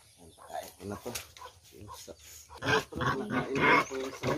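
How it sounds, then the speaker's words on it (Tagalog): A pig eating banana feed, with grunts and wet chewing and snuffling that grow louder and denser toward the end, close by and partly mixed with a person talking. "Yan, kumain na yung baboy."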